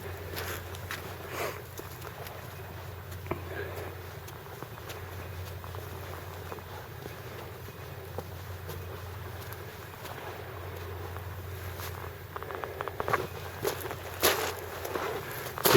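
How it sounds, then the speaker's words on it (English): Footsteps crunch steadily across thin upper-beach gravel mixed with sand and fine sediment at the base of a landslide scarp, a close, continuous scuffing under light wind noise. "So you can hear my footsteps on that gravel."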